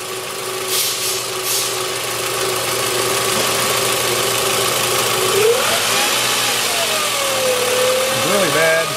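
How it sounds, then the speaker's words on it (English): A car engine with a faulty charging system rises from idle to higher revs, a steady mid-pitched drone climbing toward the end, with a voice speaking over it. "Raise the engine speed a little bit."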